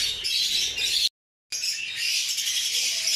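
Caged breeding birds chirp and squawk in a dense, continuous chorus, loud and close, broken by one brief gap of silence, with no voices.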